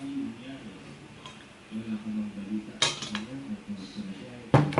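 Red velvet cake batter is scraped from a bowl into a rice cooker pan, with a few sharp metallic clinks and knocks of utensils against cookware under ongoing talking.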